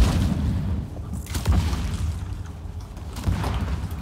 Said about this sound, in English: Explosions continue.